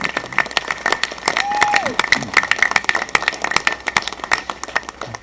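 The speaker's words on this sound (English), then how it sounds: "let's give them a round of applause and say thanks" Audience applause for charter school attendees at a governor's bill signing for an education act, a crowd clapping in an indoor hall with sharp individual claps over a steady wash, a brief whistle-like tone rising midway.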